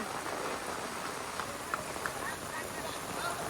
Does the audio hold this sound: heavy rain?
yes